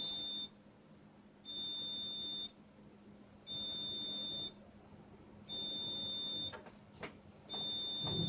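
A heat press gives a loud electronic beep in long, steady tones, about one second on and one second off, repeating five times over a low background hum.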